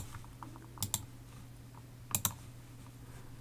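Fingers type on a computer keyboard in short, quiet bursts of clicks over a low steady hum, with a couple of sharper double taps standing out.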